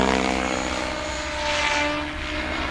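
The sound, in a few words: RC helicopter flying 3D pirouetting manoeuvres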